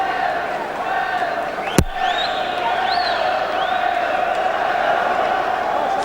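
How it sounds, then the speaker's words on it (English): The crowd at the Chris Eubank vs. Joe Calzaghe WBO super middleweight title fight keeps up a broad arena roar with whistles and cheers, a sharp thud near the middle, and a commentator talking over it. "Crowd here absolutely enraptured by this"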